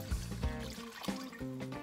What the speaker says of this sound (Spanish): Ahora vamos a echarle un poquito más de agua